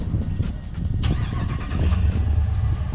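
A 2021 RAM 1500 Limited Longhorn with a 5.7-liter Hemi V8 starts by remote: a short cranking whir, then the engine catches and settles into a deep, close idle rumble.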